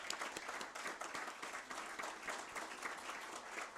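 Audience applauding a board leader at the inaugural session of a conference on industrial policy, a steady, dense wash of clapping from many hands, faint and distant, continuing throughout without pause.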